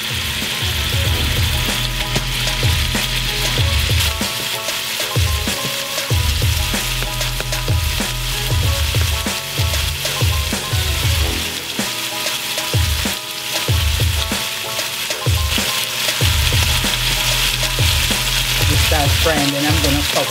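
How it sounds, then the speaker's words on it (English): Jamaican-style oxtail pieces fry in a pot, a loud steady sizzle with repeated scraping and stirring knocks, close up and continuous. "Frying, and I'm gonna cover it up."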